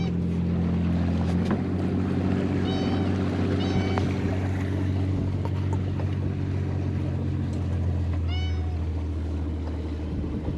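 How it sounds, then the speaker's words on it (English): A sailboat moves along in a warm, light breeze with a steady low rumble of wind and water close by, and a few brief higher cries sound faintly over it. "Yeah, the breeze is pretty warm and light, but you know, we're doing good speed here."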